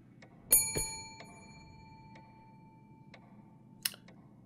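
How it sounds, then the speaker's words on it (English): Reception desk bell in The Devil in Me horror game, struck twice in quick succession with a bright metallic ding that rings out and decays slowly, followed by faint ticks and a later soft click in a quiet room. "Ring the bell."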